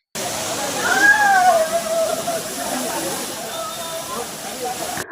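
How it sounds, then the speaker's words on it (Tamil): Courtallam waterfall at night gives a steady, close rushing hiss of falling water, with a person talking over the roar. "அருவியோட சத்தத்தை கேட்டீங்களாங்க?"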